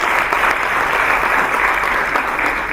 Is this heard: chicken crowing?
no